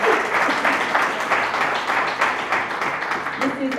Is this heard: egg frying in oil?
no